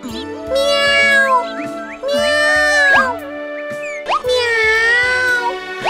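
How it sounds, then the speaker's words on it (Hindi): Cat meowing near a home kitchen, several loud drawn-out meows in close succession, rising and falling in pitch, over a steady rhythmic background tune. "अरे, लगता है बिल्ली यहीं कहीं आसपास है।"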